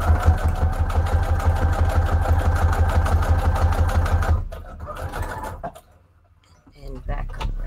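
Sewing machine stitching fabric scraps together, a steady, fast mechanical chatter running for about four seconds, then stopping, followed by quieter handling noises and a brief pause before activity resumes.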